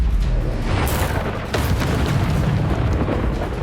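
Bombarda blasting spell explosion in the game Hogwarts Legacy: a loud, rumbling boom that swells about a second in, then a dense, sustained roar of blast and debris filling the rest of the clip.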